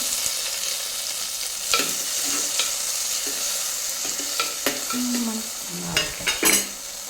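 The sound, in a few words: frying tomato in a pan for fish curry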